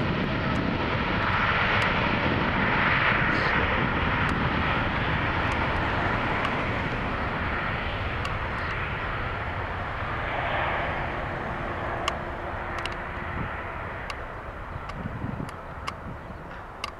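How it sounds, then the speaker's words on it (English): Twin GEnx turbofans on a Hainan Airlines Boeing 787-8 Dreamliner spool up for takeoff on runway 23 at Toronto Pearson, a loud sustained roar with a steady whine heard from inside the cabin, easing slightly toward the end. "Engine spool up."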